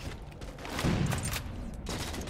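Rapid bursts of gunfire in a multiplayer shooter video game, a dense volley crackling over a low rumble across a couple of seconds, fairly loud and without speech.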